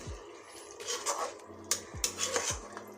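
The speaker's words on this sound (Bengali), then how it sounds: "আমি একটু কষিয়ে নিচ্ছি এই রোস্টটার উপর থেকে" Stirring a Bengali wedding-style shahi chicken roast in a pan, with repeated metallic scrapes and clinks of a spoon against the pan and a faint sizzle, close and steady with no talk.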